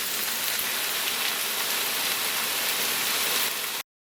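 Onions and tomato pieces with their juice fry in a pan for a spaghetti squash stir-fry, giving a dense, steady, loud sizzle that runs evenly before stopping abruptly.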